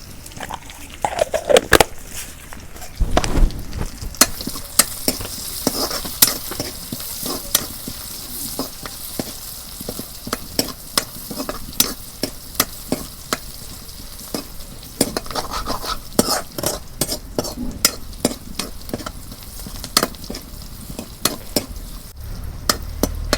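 Cumin seeds fry in hot oil in a village kitchen for taki fish curry with bottle gourd, a steady close sizzle broken by frequent scrapes and clinks of a spatula stirring against the pot.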